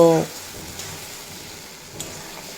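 Okra curry cooks down in a pan with a little added water, giving a soft, low sizzle and occasional stirring clinks, after a brief voice at the start.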